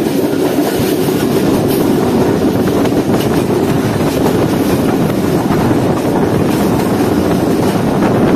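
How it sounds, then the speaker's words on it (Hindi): From aboard the Baba Fareed Express passenger train as it runs through Daharki railway station without stopping, a loud continuous roar of wheels and rattling carriages persists, with rushing wind and no speech. "ठीक पौने 9 बजे हमारी ट्रेन स्किप कर रही है ढहरकी रेलवे स्टेशन को"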